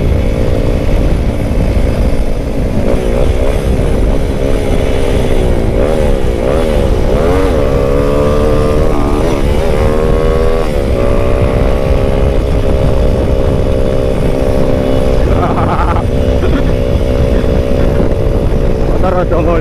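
A motorcycle engine revs loudly and close, with wavering pitch changes over a constant roar, and someone talks over it.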